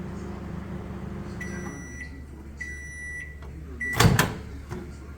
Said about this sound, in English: I worked out that our microwave does a lap every 12 seconds.